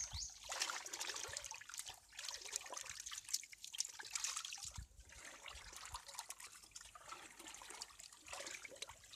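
Cow urine pours for a batch of jeevamrutham in a continuous, faint trickling and splashing stream that goes on steadily for several seconds.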